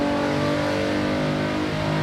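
A 300-horsepower race car in the Assetto Corsa racing game, its engine revving loud and steady with a sustained high whine throughout and no talk over it.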